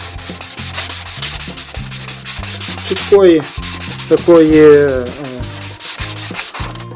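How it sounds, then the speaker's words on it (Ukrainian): Glass edges are wet-ground and polished with water, giving a loud, continuous rhythmic rubbing and scraping close up. A voice speaks briefly partway through. "Поліруємо е, грані цього шкла. Краще з водичкою."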